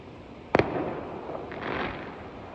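A single sharp firework bang followed by a crackling, fading rumble, heard from a distance against quiet surroundings on a winter night at the Gero Onsen hot spring town, Japan.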